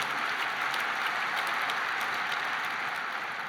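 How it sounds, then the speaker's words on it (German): Audience applause at a FC Bayern München general meeting, a steady dense wash of clapping from a large crowd, sustained and even throughout with no talk. "gerne kriegt der Marco auch Applaus dafür."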